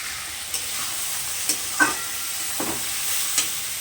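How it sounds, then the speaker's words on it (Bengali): Onion, garlic, tomato and green chili frying in a pan, a steady broadband sizzle with a few sharp spoon-against-pan stirring clicks scattered through, close and moderately loud with no talking. "পেঁয়াজ, রসুন আর টমেটো, কাঁচা লঙ্কাটাকে আলাদা করে ভেজে নিচ্ছি"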